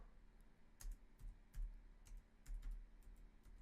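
Computer keyboard keys clicking in short bursts, a few quick taps at a time with brief pauses, close but quiet over faint room hum.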